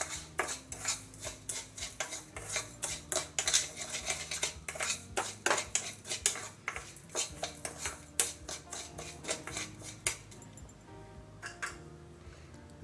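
A spoon clinks and scrapes steadily against a bowl while sugar powder is stirred in for a homemade tomato skin scrub, a busy run of close metallic ticks that thins out near the end.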